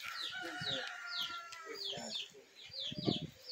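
Chickens cluck in a lively farmyard, with close, overlapping calls and bursts through the whole stretch and a louder cluster near the end.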